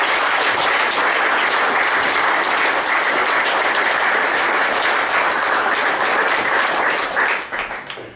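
Applause at a school rugby prize-giving, a room full of people clapping loudly and steadily before it thins out and fades near the end.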